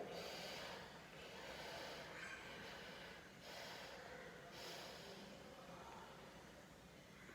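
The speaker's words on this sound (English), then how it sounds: "Exhale." A slow nasal exhale during an alternate-nostril breathing exercise, the left nostril closed by the ring finger; a long, close, airy rush of breath with a brief dip midway, and no talking.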